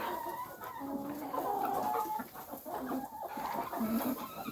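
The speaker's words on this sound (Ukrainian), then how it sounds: "курочка ось стара є" Dominant breed hens cluck repeatedly in short, busy bursts amid a general farmyard bustle, fairly close and steady throughout.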